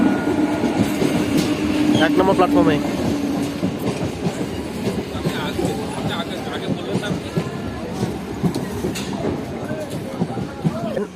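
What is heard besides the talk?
passenger train departing station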